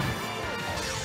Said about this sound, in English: The next up be on stage gonna get met with a mean forward smash from Grizzly.